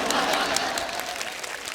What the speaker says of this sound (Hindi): आप सबकी जोरदार तालियों के बीच प्लीज वेलकम मिस्टर